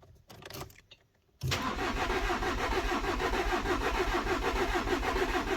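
Starter cranking on a VW Amarok common rail diesel after a timing belt repair: a brief quiet stretch, then the engine turns over and settles into a steady, loud, rough rumble that runs continuously.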